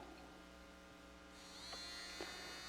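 A small motor in a 1980s Yonezawa toy robot runs on a 9-volt battery, giving a faint, steady electric buzz that rises slightly in pitch partway through.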